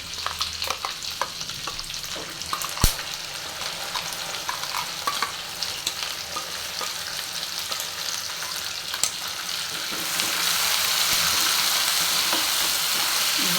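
Ground masala paste fries in oil for a creamy paneer masala, stirred over a medium gas flame: a steady close sizzle with scattered spoon scrapes and clicks, swelling into a louder, denser hiss near the end, with no voices.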